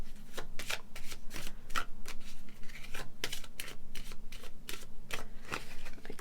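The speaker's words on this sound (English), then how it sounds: "I will shuffle the rest of your decks." A deck of tarot cards is shuffled by hand, giving repeated quick riffling bursts at an uneven rhythm, close and clear with no voices.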